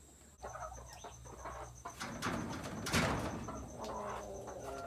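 Farm chickens clucking and calling close by, with overlapping short clucks and a louder burst of squawking in the middle over a faint background hum.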